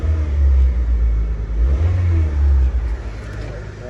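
A 1997 Honda Civic engine, started after sitting over six years, runs close by with a heavy low rumble that swells and revs around the middle, with talk faintly mixed in.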